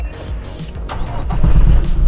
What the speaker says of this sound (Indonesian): Sebelum mobil ini gue review, gue pengen hidupin dulu karena begitu panas.